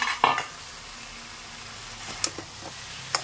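Nari stalk curry fries in a pan, a faint, low sizzle under quiet kitchen handling. A few sharp metallic clinks and scrapes of a utensil against the pan break in at the start, middle and end.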